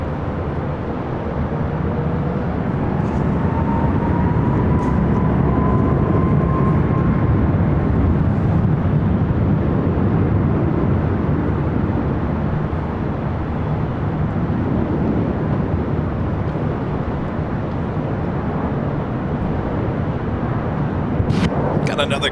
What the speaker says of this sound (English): That Coletta Air 747-400 coming in from Cincinnati.